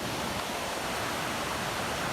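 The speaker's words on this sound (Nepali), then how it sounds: "यत्रो खोला यहाँ तल खोला छ" A river in Nepal rushes and churns nearby during rains, a loud, even wash of flowing water with no pauses and no talking.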